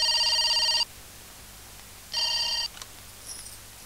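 A telephone rings in two bursts of bright electronic trilling with a pause between them, loud and close, followed by a faint trailing tone and then near silence.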